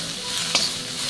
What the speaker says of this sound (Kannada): ಈಗ ಕಟ್ ಮಾಡಿದಂತಹ ಆನಿಯನನ್ನು ಹಾಕಿ ಬೇಯಿಸ್ತಾ ಇದ್ದೇನೆ.